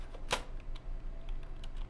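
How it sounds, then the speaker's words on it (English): Sparse keystrokes on a computer keyboard during a weather broadcast: one sharp click stands out near the start, followed by a few fainter taps at irregular intervals, close and alone. "Maybe I have to type with this keyboard."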